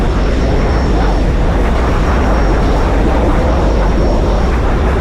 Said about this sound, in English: Now, my engine is cutting out.